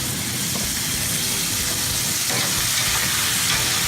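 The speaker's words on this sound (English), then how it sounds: "That's just another day cooking on the American Muscle Grill out here in the factory." Food sizzles and fries on an American Muscle Grill griddle in a factory, a loud, steady crackling hiss that fills the whole stretch without pause.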